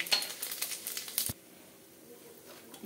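Prawns frying in oil with a little turmeric, a bright crackling sizzle with scraping and patter for just over a second, then cut off into a quiet, low background hiss.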